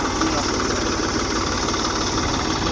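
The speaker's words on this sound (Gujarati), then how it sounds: "ચામાં પીને પાછું ટ્રેક્ટર ચાલુ કરી દીધું દરબારે" A farm tractor engine idles steadily near a river, a continuous, loud low rumble with constant vibration and no change in pace throughout.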